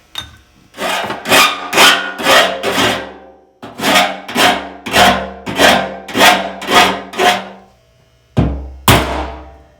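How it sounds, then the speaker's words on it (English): A run of sharp metallic strikes in a steady rhythm, about a dozen hammer blows on a punch marking drill holes in a metal fuel tank, with a brief pause before two final hits. "I'm doing just little divots to locate my drill bit to drill all these out."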